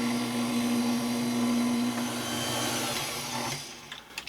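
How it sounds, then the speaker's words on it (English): An electric mixer whirs steadily through pumpkin bread batter with a constant motor drone, loud and close, then slows and stops near the end, leaving a few small knocks. "mix this till we get a batter"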